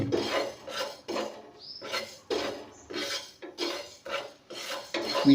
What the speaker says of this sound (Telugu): ఈ విధంగా కొంచెం దోరగా వేపండి